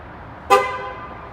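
A single short Ford Mustang horn toot rings out, sharp and close, then fades away against quiet background noise.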